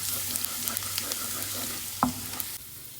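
Finely chopped garlic frying in a pan while being stirred continuously, a steady sizzle with light scraping taps and one sharper clatter near the end before the sound drops away.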